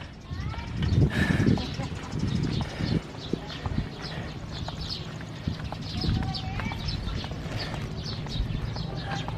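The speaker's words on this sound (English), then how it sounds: "The neighborhood cow." A cow walks on a rural side road beside a hotel resort in Bagabag, Nueva Vizcaya, Philippines, its hooves clopping in a steady rhythm close by, with people talking in the background and birds chirping.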